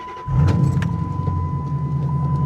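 A six-speed Dodge Challenger engine idles with a steady low rumble, close by, after a brief clunk at the start; no voices.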